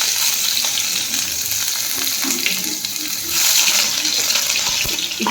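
Chopped garlic frying in hot oil makes a loud, dense, continuous sizzle that swells slightly midway, heard close up with no talking.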